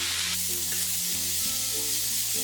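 Onions frying in an iron pan, a continuous close sizzle under repeated scraping stirs against the metal, no voices present.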